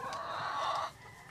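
Rhode Island chickens cluck close by in a short burst of several overlapping calls, which fade to quieter background noise near the end.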